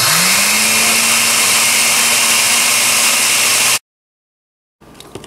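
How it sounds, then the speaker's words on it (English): A blender on its grind setting pulverizing oatmeal into powder, a loud, harsh whirring roar with rising motor pitch at start, running steadily for nearly four seconds before cutting off abruptly, then faint handling noises. "I'm just going to use the grind option on my blender"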